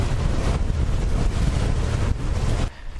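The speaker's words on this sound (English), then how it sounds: "Look at those waves." Wind gusts across a lake in Utah while waves wash against the shore or a boat, a loud steady roar of buffeting wind and rushing water, close and continuous with no talk.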